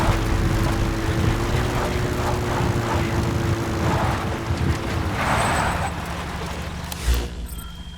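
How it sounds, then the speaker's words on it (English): A support helicopter arrives for extraction in the video game Metal Gear Solid 5: The Phantom Pain, its loud, continuous rotor and engine drone steady for several seconds before a brief thump and fade. "A support helicopter requested."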